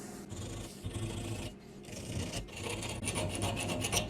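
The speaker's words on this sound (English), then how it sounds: "It's a little bit hard to file with the camera in the way" Hand file working a carbide shank boring bar, continuous close rasping strokes in an irregular back-and-forth rhythm with brief pauses between passes.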